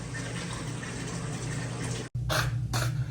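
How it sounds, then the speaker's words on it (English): Tap water pours steadily into a bathtub in a remodeled Las Vegas hotel suite, a continuous close rush that briefly cuts off, then resumes with two bright splashy surges. "let's fill this bathtub up here"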